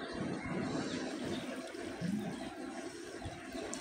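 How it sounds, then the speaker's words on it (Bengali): Water poured into a home-cooked dish seasoned with salt and cumin powder, giving a steady splashing, gurgling wash of liquid throughout, moderately loud and close, with no talk. "জল দিয়ে দিলাম।"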